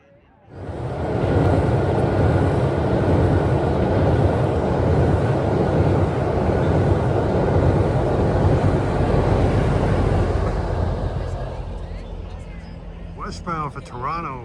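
A GO Transit train on the Lakeshore East line rolls across the railway bridge over Little Rouge Creek, a loud, steady rumbling roar with rushing wind that holds for about ten seconds before easing off, and a voice follows near the end.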